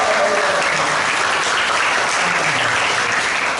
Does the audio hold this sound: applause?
yes